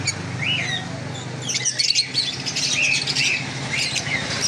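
Lovebirds, conures and white cockatiels squawk and chirp in a cluster of shrill, overlapping calls, close and fairly loud, busier toward the end.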